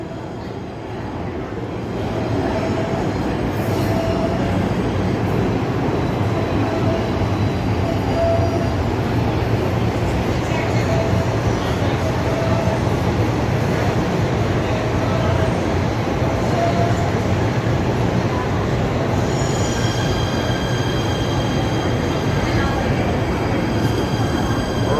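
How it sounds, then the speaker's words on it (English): A crowded New York subway train rumbles into the station, a loud continuous roar of wheels and rail noise with faint squeals, sustained throughout while people talk underneath. "Here's our train."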